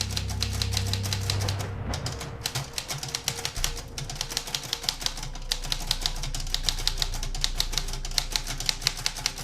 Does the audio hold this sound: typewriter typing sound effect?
yes